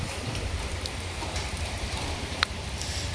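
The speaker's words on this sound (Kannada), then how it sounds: "ಇಡೀ ದಿನ ಮಳೆ ನೋಡ್ತಾ ನಿಂತ್ಕೊಂಡ್ಬಿಡ್ತೀನಿ ಗೈಸ್, ಅಷ್ಟು ಇಷ್ಟ ಮಳೆ ಅಂದರೆ" Steady monsoon rain pours down as an even, dense hiss with low rumble, one brief sharper drip or splash partway through and no voices.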